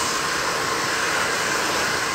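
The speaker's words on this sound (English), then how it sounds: "Yell over the dryer." A hair dryer blows continuously during a short pixie haircut, a loud, steady airy roar that holds level throughout with no talking.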